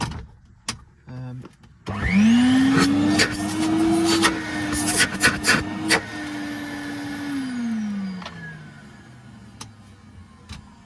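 A 1984 Numatic Henry HVC200 vacuum cleaner switches on and runs with a steady whining motor drone, close and loud, with clicks and knocks from handling over the hum before it winds down near the end.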